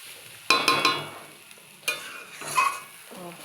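Gobindobhog rice, washed and drained, frying in a pan while being stirred: a few quick scraping strokes early on, then bursts of stirring over a steady sizzle with no talk.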